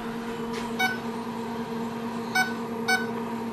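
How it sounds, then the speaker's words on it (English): A kitchen timer gives a few short electronic beeps while being set, three brief chirps spaced apart over a steady, faint background hum in a home kitchen. "So I'm going to go over here and set my timer for 20 minutes."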